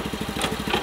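A small motor whirs in rapid, evenly pulsing strokes as a kids' ride-on tractor sits stuck in a deep hole in farm dirt, close and steady, with a brief faint higher sound over it.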